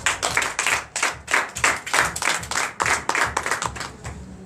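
A church congregation at a Sunday service in Benin claps in a fast, steady rhythm, many hands together filling the room with loud, regular pulses.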